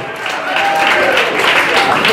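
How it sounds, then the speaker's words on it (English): A comedy show crowd gives loud, steady applause for the celebrities in attendance. The clapping swells after a quieter start and stays dense, with crowd noise and some voices mixed in. "Y'all clap it up for all my celebrities in here tonight."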